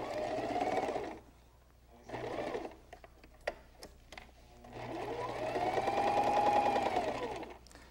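Domestic sewing machine stitching fabric in close, loud bursts: a long whirring run, a short burst, scattered mechanical clicks as the foot is lifted and the work pivoted, then another sustained run.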